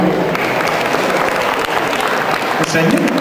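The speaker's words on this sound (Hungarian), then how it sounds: "Nagy tapsot kérünk" Loud, dense audience applause at the 2013 spring Mondocon convention results ceremony for the chopstick-use contest, steady clapping throughout with a voice briefly audible.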